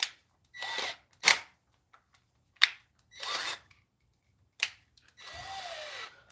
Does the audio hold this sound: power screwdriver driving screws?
yes